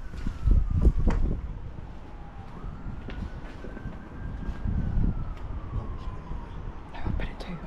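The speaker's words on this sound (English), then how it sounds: "those sirens are getting significantly closer." Police sirens wail in the distance beyond an abandoned hospital, a faint rising and falling tone drifting through the clip while people talk and shuffle nearby.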